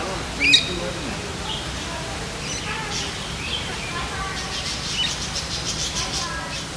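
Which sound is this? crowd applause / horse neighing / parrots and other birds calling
parrots and other birds calling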